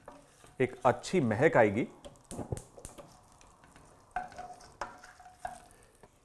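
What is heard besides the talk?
stirring melon seeds and orange peel frying in ghee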